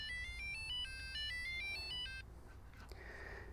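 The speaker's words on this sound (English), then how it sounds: "play a sound to locate the device if I can't see the bike." A Knog SCOUT bike tracker plays its locator sound, a quick run of bright chiming tones repeating for about two seconds, then fading into quiet room noise with a faint tinkle and a soft knock.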